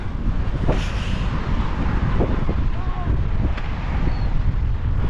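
Strong, cold wind in New Zealand roars steadily against the microphone near a parking area, a constant buffeting rumble with occasional gusts and faint background noises.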